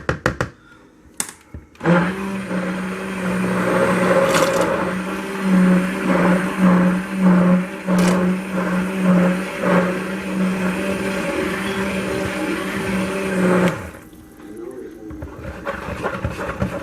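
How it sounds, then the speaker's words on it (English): A stick blender whirs steadily through cold process soap batter for a pumpkin apple strudel soap, a close, continuous motorized drone with slight pulsing as it churns, starting and stopping abruptly. "My stick blender's been making a whole lot of bubbles here lately."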